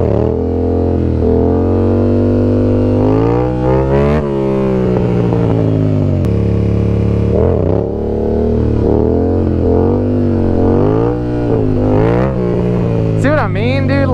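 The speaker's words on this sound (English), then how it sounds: "Trying to pop a wheelie like a 12 o'clock." A Yamaha MT-07 motorcycle engine revs hard and climbs in pitch during wheelie attempts, easing off and surging again several times, loud and close.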